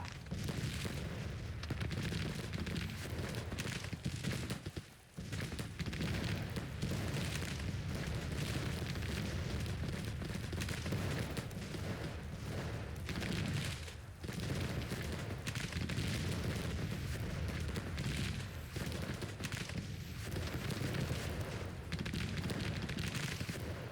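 Cannon and artillery fire on a Civil War battlefield in the strategy game Grand Tactician: The Civil War 1861-1865, sounding as a dense, continuous low rumble of booms with no clear break, loud and sustained throughout.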